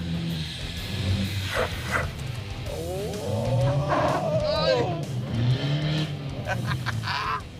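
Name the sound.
winter beater car engine revving while shifting gears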